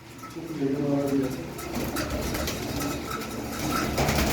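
Soft pigeon cooing blends with steady background noise and nearby talking, the low warbling calls repeating faintly throughout.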